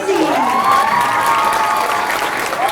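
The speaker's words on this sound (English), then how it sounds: "The whole gym applauds, they give high fives, they're walking out like rock stars." A school gym audience claps and cheers loudly for student talent show performers, producing a dense, steady wave of applause with shouts and whoops mixed in.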